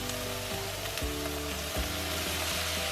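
Chicken and broccoli fry in a pan with a constant loud sizzling hiss, broken by a few soft knocks and stirring shifts. No one speaks.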